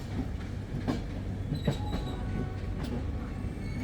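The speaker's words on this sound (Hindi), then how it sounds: "Train standing on platform number 7 E22919 up Chennai Ahmedabad Express." The Chennai Ahmedabad Humsafar Express stands at a station platform, giving off a steady low rumble and hum with faint metallic squeaks and clanks over the noise.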